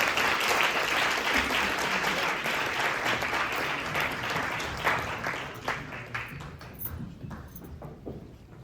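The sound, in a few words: audience applause at fundraising gala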